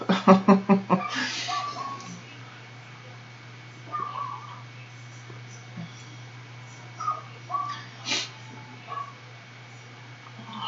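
A dog gives a few quick yips or barks at the start, loud and close, then quieter scattered noises and faint voices over a steady background hum.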